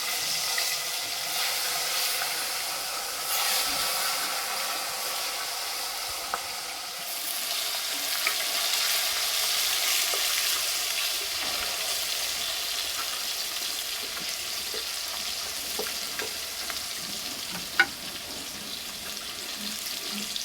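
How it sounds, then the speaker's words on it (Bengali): Rohu fish sizzling as it fries in hot oil with turmeric, a steady crackling hiss that runs the whole time at moderate volume, with a few sharper pops and no talking. "মাছগুলো একদম লাল লাল করে ভেজে নেব।"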